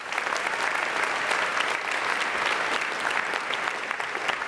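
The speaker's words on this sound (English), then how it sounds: "everyone a round of applause for all of us, please" Undergraduate graduates at the 2025 Case Western Reserve University commencement give a dense, steady round of applause, a continuous even roar of many hands clapping with no talking over it.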